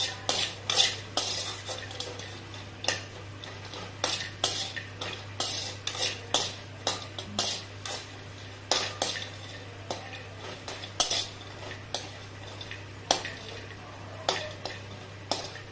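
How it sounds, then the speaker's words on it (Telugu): Dried coconut roasts on low flame as a spoon stirs it around a pan, giving repeated sharp scraping and clinking strokes over a soft low hum, close and steady with no speech. "లో ఫ్లేమ్లో పెట్టుకొని కొబ్బరిను వేయించుకోవాలి."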